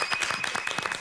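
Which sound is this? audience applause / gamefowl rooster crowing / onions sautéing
audience applause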